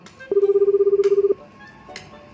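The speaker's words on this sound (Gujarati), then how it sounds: "લાય ઓલા લીલાને ફોન." Ringback tone of an outgoing phone call: a single steady, pulsing electronic burble lasting about a second, clear and fairly loud against a quiet room with faint background noise.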